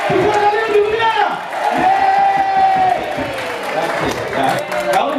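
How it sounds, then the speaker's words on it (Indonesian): A seminar audience applauding loudly and shouting in cheers, a dense, sustained roar of clapping and voices filling the room. "Tepuk tangan paling meriah. Meriahnya dengan teriakan dengan ikhlas ya."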